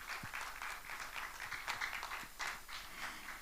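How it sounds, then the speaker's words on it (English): An audience at a hydrogen energy MoU signing ceremony claps steadily in a faint, continuous round of applause. "Another round of applause for Mr. Boyd, please."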